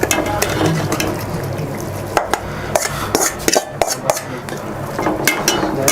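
Cauliflower biryani masala sizzles in a pan while a spoon scrapes and clinks against the metal in irregular strokes, close and busy, with steady frying hiss underneath.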